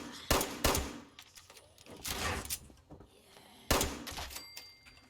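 Gunshots in Fallout 76 ring out in a town, three sharp, loud reports spaced a few seconds apart, each followed by a short decay, with quieter in-game clatter and rumble in between.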